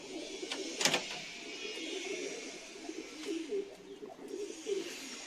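Domestic pigeons cooing softly in a loft, low rolling coos repeating through the clip with a faint chirp and a brief rustle, quiet and close.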